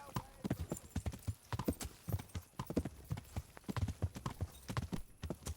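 Horse hooves clip-clop in a steady, quick rhythm in the Kingdom Come Deliverance video game, continuous and fairly close, with faint background sound under it.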